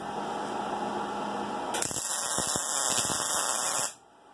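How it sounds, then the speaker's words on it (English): Arc welding on a sword fullering jig for a blacksmith's hardy hole: a loud, harsh, crackling buzz starts suddenly partway through and holds steady for about two seconds before cutting off, following a lower background hum. "Let's weld it up."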